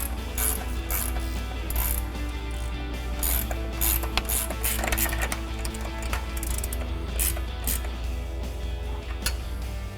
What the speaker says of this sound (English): we're gonna grab our 21mm ratcheting wrench and ratchet and 10mm socket